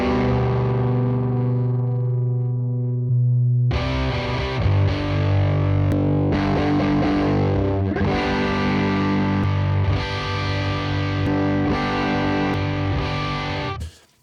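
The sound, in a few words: guitar amp profiles in stereo, one phase inverted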